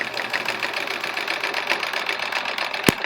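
A sewing machine fitted with a Westalee thread ruler foot runs a straight stitch in a fast, steady mechanical chatter, close and loud, with a sharp click near the end.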